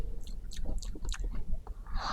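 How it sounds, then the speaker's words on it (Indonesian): Close, moist chewing of betel leaf, with repeated crunchy bites and wet mouth sounds in a quick irregular rhythm over a low background rumble. "Mereka mulai mengunyah sirih."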